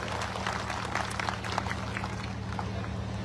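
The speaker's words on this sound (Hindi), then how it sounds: "इनके लिए भी जोरदार ताली" Crowd clapping at a political rally, a dense steady patter of many hands with a low electrical hum underneath, fairly loud and unbroken for a few seconds.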